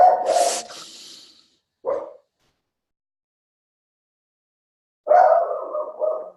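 A dog barking indoors in three separate bursts, a loud bark, a short yip-like bark, then a longer bark near the end, with silence between.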